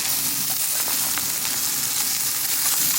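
A precooked salmon fillet warming in a camp pan makes a continuous bright sizzle and crackle, steady and fairly loud with no talking.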